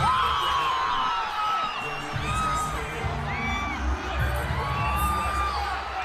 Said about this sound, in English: The crowd, crazy.